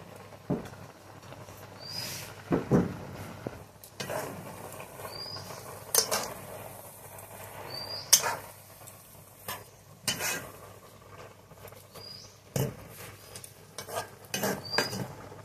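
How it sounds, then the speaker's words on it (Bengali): Pumpkin leaves tipped into a boiling broth of large-fish fat, with soft rustling, patter and bubbling, scattered clinks of a utensil against the pot, fairly quiet and with no voices. "ঝোলটা ফুটে গেছে, এখন শাকগুলো দিয়ে দেব।"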